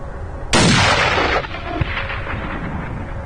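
A single sharp rifle shot, fired with a DNT Hydra at a small long-range target at 340, cracks loud and close, then trails off in a rolling echo over about a second before faint ambience.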